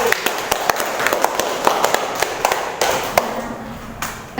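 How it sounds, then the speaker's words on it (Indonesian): A small group clapping for a presenter in a classroom: scattered, uneven hand claps at close range, loud at first and thinning out toward the end. "Ya, tepuk tangan buat Lipi."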